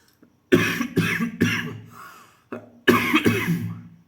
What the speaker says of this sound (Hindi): तबीयत सही नहीं है, इसके वजह से खांसी आ रही है।